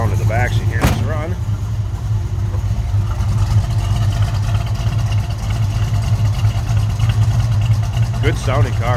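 A 1970 Dodge Dart with a 340 V8 running at idle, heard from the rear, a deep, loud, steady exhaust rumble throughout, with someone speaking briefly over it near the start and end.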